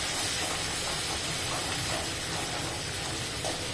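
Dried red chillies sauté in hot oil with chopped tomato for a hotel-style sambar, producing a loud, continuous, close hiss and sizzle that holds steady the whole time with no talk.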